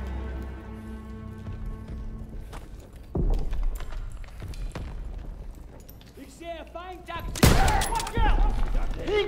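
Gunfire in a Call of Duty battle, with sharp rifle shots and rattling volleys that build to a loud burst near the end, mixed with shouting voices and scattered combat noise.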